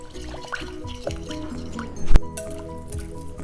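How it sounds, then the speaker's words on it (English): A whisk works lotion mixed with lavender and carrot seed oils in a bowl, giving soft wet squishing and faint clinks, with one sharper knock against the bowl partway through. "the whisk will just help mix it up a bit more"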